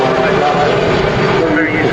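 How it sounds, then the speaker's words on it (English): Airliner taking off from Manchester Airport on a short flight to Belfast, its engines a loud, steady roar rising as it rotates, with a voice talking over it. "Short flight for that one, nice smooth rotation."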